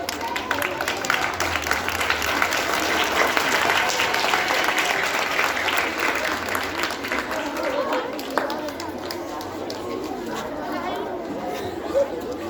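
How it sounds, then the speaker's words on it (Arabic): Children and a crowd applaud top-performing pupils at a school flag-raising and student honours ceremony, steady dense clapping holding through the clip and thinning slightly near the end, with chatter and a voice underneath. "يلا صفقوا لهم."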